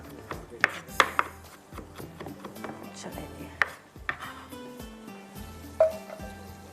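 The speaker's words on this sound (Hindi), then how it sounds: "थोड़ा सा इसको मैं चॉप कर लेती हूँ" A knife chops food on a board while a tomato chicken soup is being made, giving irregular, close, sharp knocks with pauses, under low background noise.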